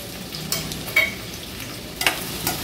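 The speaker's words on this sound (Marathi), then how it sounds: "कांदा व्यवस्थित शिजवून घ्यायचा आहे।" Finely chopped large onion frying in a pan for a seafood curry, a low sizzle broken by a few sharp scraping stirs, fairly quiet and close, no talk.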